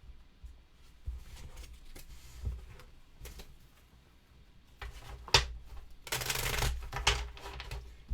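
Item cards from a Buffy the Vampire Slayer board game are shuffled back into the deck by hand, close and quiet, with soft riffling, taps and a louder flurry of card noise toward the end.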